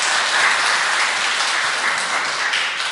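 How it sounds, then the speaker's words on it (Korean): A church congregation applauds its ensemble loudly and steadily during a Pentecost service, dense clapping that holds without a break. "늘 우리 연주를 해주는 우리 앙상블에게 다시 한번 좀 큰 박수 드리죠"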